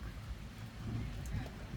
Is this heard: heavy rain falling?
yes